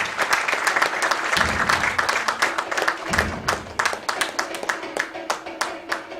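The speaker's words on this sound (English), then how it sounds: "let's give a thundering round of applause for Chef Sanjeev" A live audience applauds for Chef Sanjeev Kapoor with brisk, close hand clapping that thins toward the end into scattered separate claps, while a voice is heard speaking over it.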